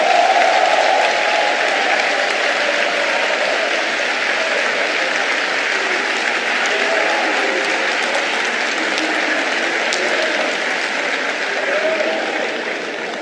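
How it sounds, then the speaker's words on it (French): A large crowd at a political rally in Côte d'Ivoire claps and cheers continuously, a loud, sustained roar of applause and voices with no pauses. "je veux vous entendre dire par des acclamations nourries que vous êtes prêts"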